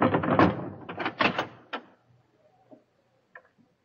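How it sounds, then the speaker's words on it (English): A barred door is unbarred and opened in a radio drama about John Brown: a quick run of heavy wooden clunks and thuds, then a few faint, sparse clicks as it settles. "Kagi, unbar the door"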